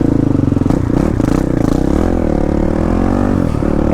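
A dual-sport motorcycle engine runs loud and close, its low throbbing hum rising and falling as the bike pulls away, with some clattering mechanical noise early on.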